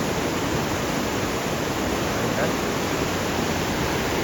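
A river swollen after heavy rain rushes past in a steady, loud, unbroken roar of flowing water, close by and constant throughout.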